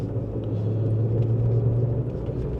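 An Audi car's engine and road noise in a steady low rumble from inside the cabin while driving at night through downtown Toronto, continuous and fairly close, with no talk.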